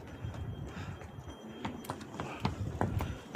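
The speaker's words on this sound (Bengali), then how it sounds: "গাধা ট্রাফিক" Donkey hooves clip-clop irregularly on a rocky mountain trail to Namche Bazaar in Nepal, the sharp knocks fairly quiet at first and growing more distinct toward the end.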